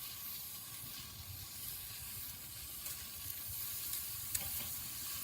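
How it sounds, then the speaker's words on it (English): Bison top sirloin sears directly over hot coals in a Weber kettle grill, a steady close sizzle and hiss with occasional sharp pops and crackles. "So to sear these off, I'm going to go ahead and put them right over the hot coals."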